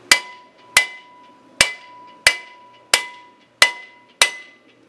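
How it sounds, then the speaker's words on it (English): A hammer strikes the hub of a rusted rear brake rotor on a 2002 Ford Explorer seven times at a steady, roughly once-a-second pace. Each blow rings sharp and metallic, close up, with no talking. "application of a hammer on here, never on the braking surface, will pop it loose"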